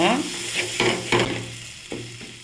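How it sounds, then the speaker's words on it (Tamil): Kothu chapati being mixed and sautéed in a pan, with a steady sizzle under a run of spatula scrapes and clatters, several sharp strikes close together near the start and a lone knock later. "எல்லாத்தையும் மிக்ஸ் பண்ணிவிட்டு நல்லா வதக்கிக்கோங்க"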